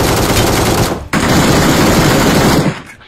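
Automatic gunfire in the video game PUBG: loud, dense bursts of rapid shots filling the clip, with a brief break about a third of the way in before firing resumes and then fades.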